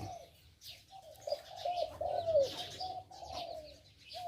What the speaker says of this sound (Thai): ได้ยินเสียงนะครับ เสียงนวลเสียงนิ่มนะครับ นวลคูอยู่นะครับ